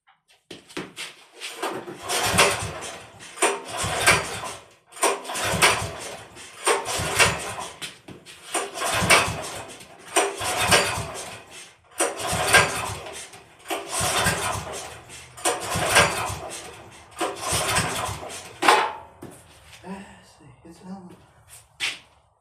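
An engine cranks in cold weather: a series of about a dozen rhythmic, grinding starter bursts, each roughly a second long with brief gaps, loud and close. It never settles into a steady run, and it ends in quieter rattling.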